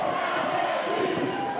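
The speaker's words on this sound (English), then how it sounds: "you can hear the energy from this crowd as well. It is deafening in here." A wrestling arena crowd roars continuously, a dense, steady wall of cheering that fills the hall for just over a second.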